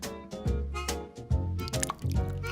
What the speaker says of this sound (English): And pour fresh milk.